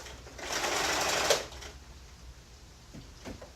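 Sewing machine stitching a slipcover, running in one steady whirring burst of about a second before stopping, followed by faint handling clicks.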